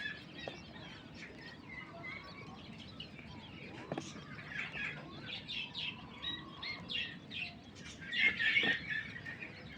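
Coturnix and king quail chicks chirp and peep in a busy chorus throughout, with several louder high calls near the end.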